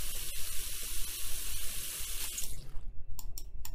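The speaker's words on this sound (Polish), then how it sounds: "Czy ja mogę postawić tą miskę i napełnić ją wodą?" Water from a tap gushing into a plastic bowl in the video game Cooking Simulator: Shelter, a loud steady splashing stream that cuts off abruptly, followed by a few faint clicks.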